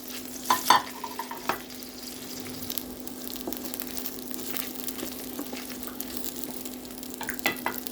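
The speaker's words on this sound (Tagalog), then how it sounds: "With the same pan, let's put our fried chicken" Fried chicken stirred in a pan for sweet and sour chicken, a soft steady sizzle with a few scraping clicks of a utensil near the start and a low hum underneath.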